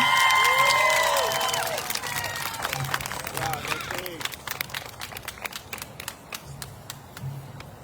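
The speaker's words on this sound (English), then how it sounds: "Let us give them another round of applause" At the St. Mary's Academy Class of 2025 commencement ceremony, the audience applauds and cheers the graduates in a full, dense burst that thins to scattered, sharper claps. A voice is heard briefly at the start.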